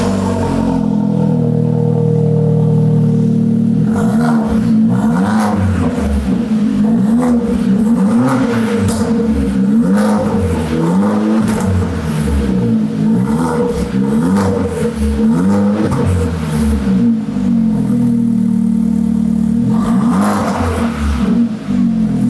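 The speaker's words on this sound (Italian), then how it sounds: "vi accendo un attimo la macchina, così si sente il risultato della linea di scarico" A tuned Opel Corsa OPC with a free-flow exhaust idles and revs hard close by. The loud, raspy engine rises and falls in repeated throttle blips, with no voices.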